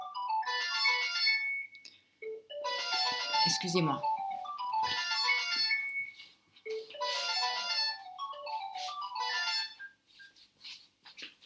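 A phone ringtone plays loud and close in repeated melodic bursts with short gaps between them, while someone briefly speaks over one of the pauses.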